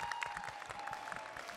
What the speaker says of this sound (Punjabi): ਇਹਨਾਂ ਲਈ ਜ਼ੋਰਦਾਰ ਤਾੜੀਆਂ ਹੋਣੀਆਂ ਚਾਹੀਦੀਆਂ।